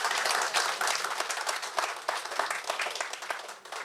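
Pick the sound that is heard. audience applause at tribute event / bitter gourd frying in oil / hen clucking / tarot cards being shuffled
audience applause at tribute event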